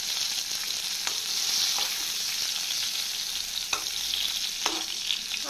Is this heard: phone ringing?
no